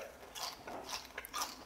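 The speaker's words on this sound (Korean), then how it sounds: "튀김이 얼마나 바삭하게 튀겨졌는지 자 요거 바로 먹을게요" Crisp bites into deep-fried snakehead fish, several sharp crunchy bursts in a quick uneven rhythm, close and fairly quiet with no talk.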